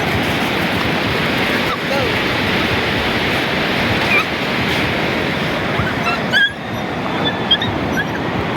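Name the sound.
sea waves on the shore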